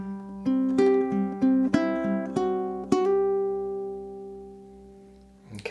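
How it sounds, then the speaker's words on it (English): A low G ukulele plays a bar built on C5 with plucked chord strikes in a steady rhythm, ending in a short melodic run of single notes that ring out and fade; close, clean and without talk. "our next bar carries out of C5 again, but we have a little melody run at the end"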